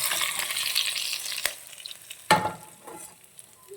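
A curry-leaf tempering is poured over beef, setting off a loud, close sizzle that fades gradually, broken by a couple of sharp metal knocks, and no voices.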